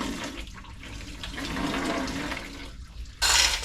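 Antifreeze from a 1986 Chevrolet C20 Suburban with a failed LS 6.0 engine pours out in a loud, continuous splashing rush that swells and ends in a harsh burst.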